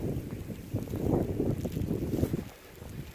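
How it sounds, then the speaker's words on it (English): Strong wind roars around a cabin during a blizzard, a loud, low, buffeting rumble that swells and gusts over a few seconds before easing, with no talk. "The winds are blowing really hard now."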